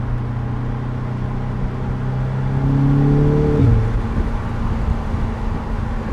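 An Audi S3 engine drones steadily, rising in pitch as it revs up, then briefly drops and settles back to a low, even hum.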